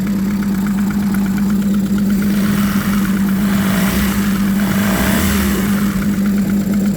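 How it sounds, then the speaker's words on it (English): A 2016 Evinrude E-TEC 150hp H.O. outboard engine runs steadily on a freezing day, a loud, close, even drone with a rough mechanical chatter throughout. "both engines are running perfectly fine"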